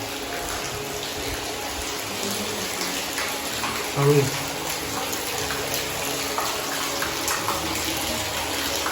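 Continuous rushing of a hidden spring flowing nearby at a temple, steady and moderately loud, with a brief low murmur of a voice in the middle.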